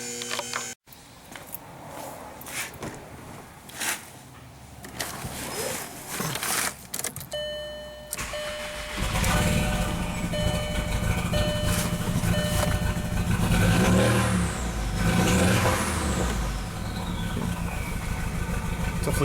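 A 1.8T four-cylinder car engine with misfire codes P0300, P0302 and P0303 turns over, catches and settles into a steady, fairly loud run with a rougher, fuller rise in its second half; no talk.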